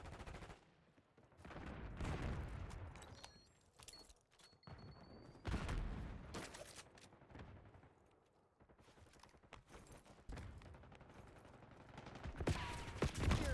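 An AK rifle fires in a video game in repeated bursts of rapid shots, some close and heavy and others thinner and farther off, broken by short lulls.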